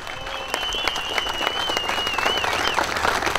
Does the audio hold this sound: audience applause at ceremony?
yes